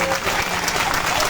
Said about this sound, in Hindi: सभी जनता जनार्दन हमारे गोंडवानावासी जोरदार तालियां बजाएं